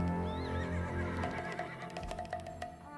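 Horse neighing in the video game Black Desert, a loud whinny rising and falling over a steady musical background, with a few clip-clop hoof sounds later on.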